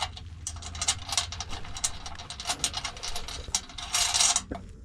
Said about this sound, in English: Throw these nuts and washers on.